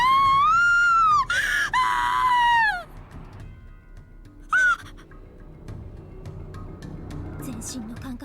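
A loud, high, wailing scream in the horror video game Corpse Party: Book of Shadows, sustained and wavering for nearly three seconds, followed by a shorter cry over a low ambient drone.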